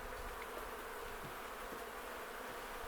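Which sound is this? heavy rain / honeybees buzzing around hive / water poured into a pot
honeybees buzzing around hive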